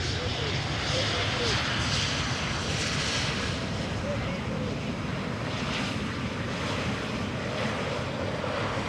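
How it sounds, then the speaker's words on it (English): An Embraer 190 airliner in a special chocolate-themed livery, arriving at Amsterdam Schiphol Airport from Glasgow, gives a steady broadband jet roar with wind noise throughout, while a person talks over it. "the DAPRI Lycifer Chocolaterie Special Livery Embraer 190"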